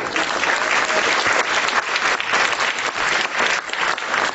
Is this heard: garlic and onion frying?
no